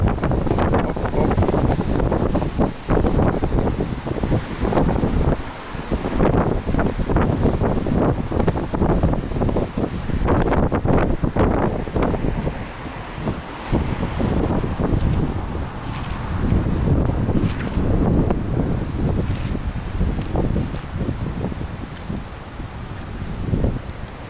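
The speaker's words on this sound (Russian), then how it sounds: "Смотрите, как красиво порывы ветра и волны идут по этой луже большой." Strong winter wind gusts sweep over a large puddle near Oba in Alanya, producing a loud, continuous roar and heavy buffeting against the microphone with no talking.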